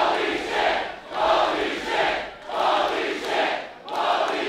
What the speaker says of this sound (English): They're chanting Bobby shit